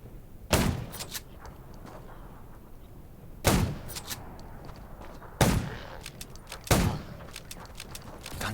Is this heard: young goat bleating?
no